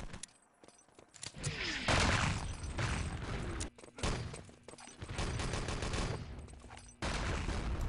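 Gunfire and explosions in the Enemy Territory video game, with artillery, grenades and MP40 fire making dense, loud crackling volleys and booming blasts that come in long sustained stretches broken by brief gaps.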